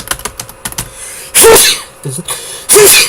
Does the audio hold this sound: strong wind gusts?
no